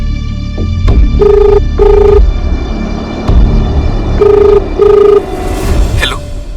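Telephone ringing in bursts, with two pairs of loud electronic ring tones separated by a pause, heard up close over a low background hum in a crime drama scene.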